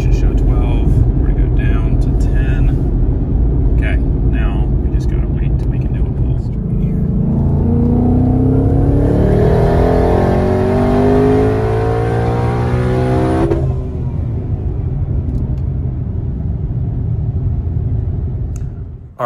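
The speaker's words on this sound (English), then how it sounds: "You just saw me do a pull in the street in third gear" A Ford Mustang Mach 1 pulls hard in third gear on a street, engine note rising loud and close as it accelerates, then dropping off as the throttle lifts.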